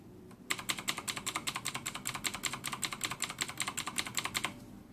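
A mechanical keyboard with Gamdias Blue switches is typed on at a quick, even pace, producing a close, crisp run of sharp clicks lasting about four seconds before stopping.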